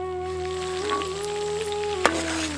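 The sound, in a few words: mutton meatballs frying in oil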